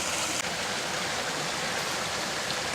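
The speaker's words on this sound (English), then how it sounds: "I'm going to grab the hose and start rinsing." A garden hose sprays water to rinse a homemade pond filter, a constant close, loud hiss of rushing water with no pauses.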